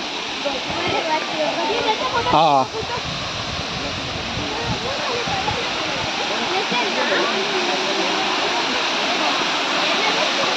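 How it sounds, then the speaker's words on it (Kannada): Sirimane waterfall pours in a constant broadband roar, loud and close, while people talk over the rushing water. "ನೋಡಿ ಸಿರಿಮನೆ ಫಾಲ್ಸ್ ಇದೆ."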